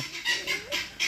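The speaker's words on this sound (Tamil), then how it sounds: "எங்களோட கோழியல் கத்துது" Several short bird calls in bursts, a chicken clucking repeatedly at close range with brief pauses between calls.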